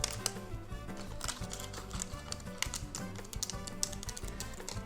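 A knife cuts between the slits of homemade chocolate peanut butter cups, giving a steady run of small, close tapping clicks against the board.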